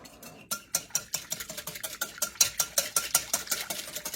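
A whisk beating pudding mixture in a bowl for a German chocolate poke cake, quick regular clicking strokes close by that grow steadier and louder.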